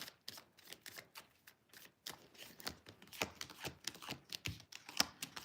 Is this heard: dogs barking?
no